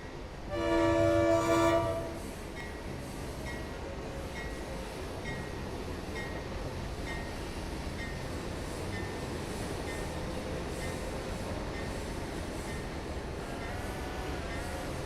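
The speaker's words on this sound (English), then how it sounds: "So we're taking a work train to where we're working today." A work train in Trainz Railroad Simulator 2019 sounds its horn in a loud, short blast, then rumbles along steadily with continuous rolling and engine noise.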